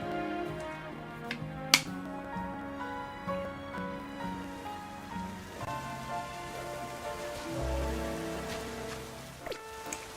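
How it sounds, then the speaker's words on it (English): Rain falling in the video game Pokémon Legends: Z-A, a soft steady patter of drops on surfaces layered under background game music with tonal chimes, moderately quiet and continuous with no talking. "Ooh, it's raining."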